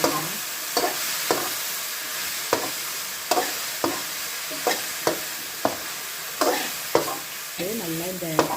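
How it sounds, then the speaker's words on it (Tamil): Mushrooms sauté in hot oil with ginger garlic paste for a restaurant-style pepper mushroom gravy, with a steady sizzle broken by repeated stirring scrapes at a regular pace. "நல்லா இந்த எண்ணெய் இஞ்சி பூண்டு பேஸ்ட்டோடு நல்லா வதங்கணும்."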